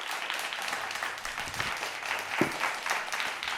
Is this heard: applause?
yes